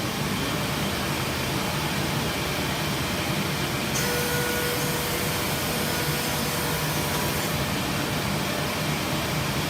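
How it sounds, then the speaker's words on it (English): A dust collector hooked to a wood planer runs continuously, a steady loud airy roar with a faint shift in tone midway and no break. "Got to put on the dust collection."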